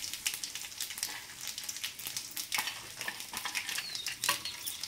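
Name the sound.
small onions frying in hot oil with tempering seeds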